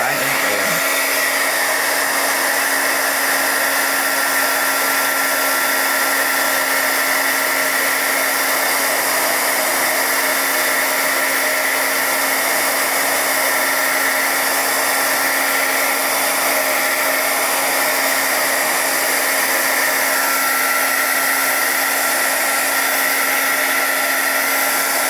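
A hair dryer blows steadily on a watercolor landscape painting, a loud, continuous whirring hum that runs unbroken for the whole stretch with no talking.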